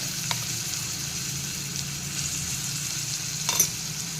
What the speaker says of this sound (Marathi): कढईत ना मी एक टीस्पून तेल घेतलेलं आहे त्याच्यामध्ये हे वाटण घालूयात